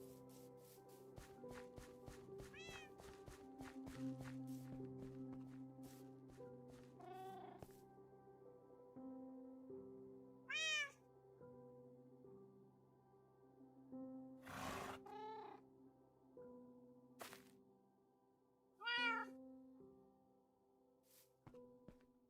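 Cats meow in a Minecraft game, several short separate calls spread over a steady bed of quiet game background sound. They are faint and do not overlap.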